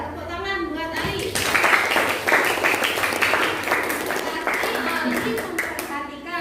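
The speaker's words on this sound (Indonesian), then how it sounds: "Tepuk tangan buat Ali." A classroom of pupils applauds their classmate Ali, a lively patter of many small hands clapping for several seconds with children's voices mixed in.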